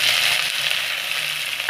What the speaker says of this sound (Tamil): கலர் மாறுறதும் நல்லா வதக்கி விடுங்க.